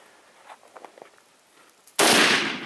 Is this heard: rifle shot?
yes